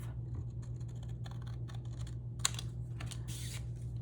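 Paper is cut for a junk journal project, a series of quick crisp snips and scratchy slices close by over a low steady hum, with no one speaking.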